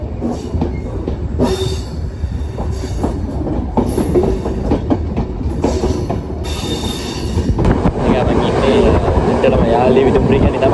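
Yal Devi passenger train running on rails, a steady rumble and rattle of wheels on track with intermittent squeals and clanks, loud and continuous throughout, growing heavier toward the end.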